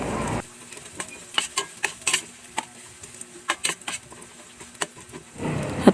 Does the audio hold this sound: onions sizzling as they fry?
yes